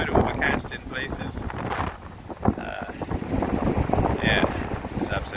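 Wind gusting across Goode Beach on an overcast, blustery day at Albany, a steady loud roar buffeting the microphone with surging gusts throughout.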